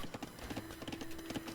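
Hooves of companion cavalry, a samurai-type unit on horseback in Age of Empires II, clip-clopping in a quick uneven rhythm over a steady game drone, fairly close and moderately loud.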